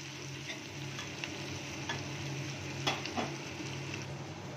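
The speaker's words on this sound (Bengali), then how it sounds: "টমেটোটা যখন একটু নরম হয়ে যাবে, ভালো করে ভাজবেন" Tomatoes frying in a pan, a continuous close sizzle with faint intermittent scrapes and ticks, steady and moderately loud, with no talk.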